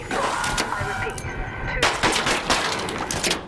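Gunfire in Arc Raiders, a series of sharp shots cracking out loud and close, some in quick bursts, with a voice talking over them.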